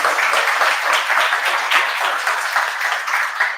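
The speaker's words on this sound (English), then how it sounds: "can I get a big round of applause for everybody that I just mentioned?" Dense, steady applause from a large conference audience at a JavaScript developer event in Belgrade, a sustained wash of many hands clapping at once with no break.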